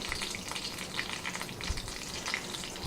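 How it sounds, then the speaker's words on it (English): Potatoes crackle and sizzle in hot oil in a pan, a steady close frying hiss with scattered pops, no talking. "we're going to let it fry"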